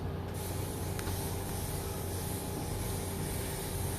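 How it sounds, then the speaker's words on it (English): Shine spray is misted onto hair from a distance, producing a continuous, even hiss that runs the whole length, faint and steady with a soft background hum and no voices. "I'm gonna do a little bit of a shine spray"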